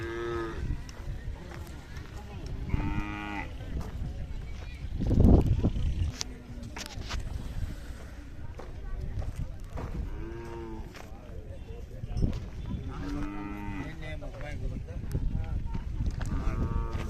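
Large white working bulls at a Khillar cattle market fair lowing several times, deep moos spaced apart over a busy outdoor hubbub with people talking nearby.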